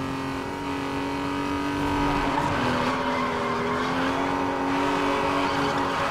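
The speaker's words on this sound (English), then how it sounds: "I think I somewhat drifted there." Game car in Need for Speed Most Wanted drifting, a steady engine drone with tire squeal that rises and shifts in pitch, loud and continuous with no talk.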